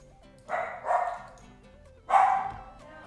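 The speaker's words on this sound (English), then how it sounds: "My dogs are being pretty annoying." Several dogs bark indoors, two short bursts close together and then a third louder bark after a pause, moderately near with a quiet background.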